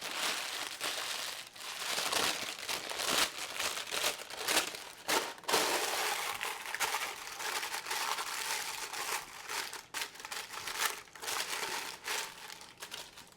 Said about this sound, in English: So I'm going to crinkle this up just a little bit.